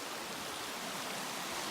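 Creek flowing beside a hiking trail on the Uwharrie Trail, a steady, fairly loud rushing wash of water that stays even throughout.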